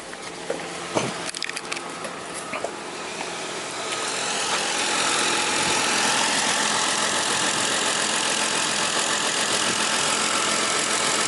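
A car engine runs steadily as the accelerator is pressed hard with little response, starting with clattery handling noises before settling into a loud, sustained engine drone.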